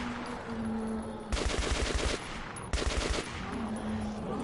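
Two bursts of rapid automatic gunfire in Metro Last Light, each about a second long, crack loudly over a low ambient hum and drone.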